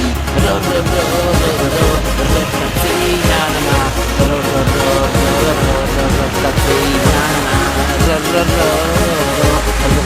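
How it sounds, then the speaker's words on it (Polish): A loud Ursus C-360 tractor engine roars continuously at high revs while mowing a meadow, a dense mechanical drone with rough rattling throughout, no clear speech. "teraz daję gazu na obrotach łąkę koszę dwa hektary"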